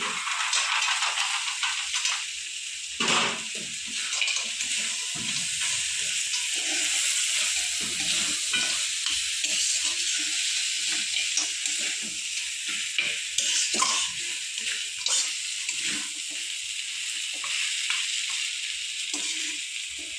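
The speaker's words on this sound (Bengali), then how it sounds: "এবার আমি দিয়ে দেবো ভাজা বড়ি" Fried lentil dumplings (bori) stirred into sizzling amaranth greens (note shaak) with lemon juice in a pan, a continuous soft hiss broken by repeated scraping stirs, alone without talk.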